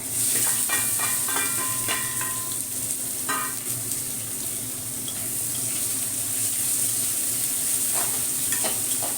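Chopped onions sizzle and crackle in hot oil, with a steady hiss and occasional scraping stirs of a utensil in the pan.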